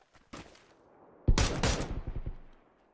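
Shooter video game gunshots: a short burst of sharp shots, then a louder rapid volley of several cracks with a fading tail, close and clear without talk.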